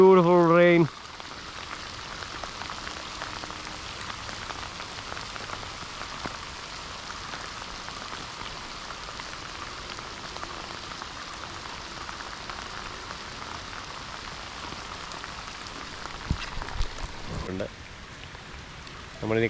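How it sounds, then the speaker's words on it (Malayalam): Rain falls steadily outdoors in an even, soft hiss that holds for the whole stretch, with short bursts of voices at the start and end. "Beautiful rain."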